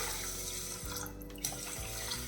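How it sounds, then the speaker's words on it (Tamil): Water pouring into a bowl of washed, soaked rice and flattened rice for ragi idli batter, a steady close splashing stream that runs throughout with no talk. "இது முங்குற அளவுக்கு தண்ணி சேர்த்துடலாம்"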